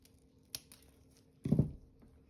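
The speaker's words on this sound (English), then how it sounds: "So for the greenery, I think I'm gonna cut it." Scissors cut eucalyptus and greenery twigs in a few quiet snips, with a sharp click early on and a louder crunching cut past the middle, up close and free of talk.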